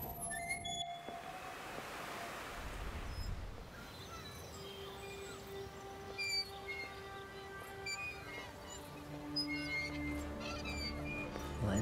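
A train in the horror video game The Evil Within gives a steady rumbling rail drone with scattered high squeals and metallic pings. It is moderately loud and continuous, with no talking over it.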